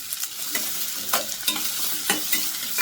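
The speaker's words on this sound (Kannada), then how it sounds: "ಶುಂಠಿ ಹಸಿಮೆಣಸಿಕಾಯಿ ಬೆಳ್ಳುಳ್ಳಿ ಈರುಳ್ಳಿ ಇದು ಸ್ವಲ್ಪ ಫ್ರೈ ಮಾಡ್ಕೊಳ್ಳೋಣ" Ginger, green chili, garlic and onion fry and sizzle in a pan, with steady crackling and repeated scraping stirs coming through close and clear, no talk over it.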